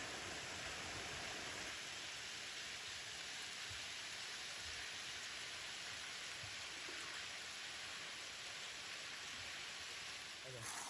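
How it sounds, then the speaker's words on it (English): A waterfall in the Sipsey Wilderness runs full after heavy rain, a constant broad hiss of rushing water that holds steady and even throughout, with faint voices now and then beneath it. "With all the rain in the last 2 weeks, all the waterfalls are running spectacularly."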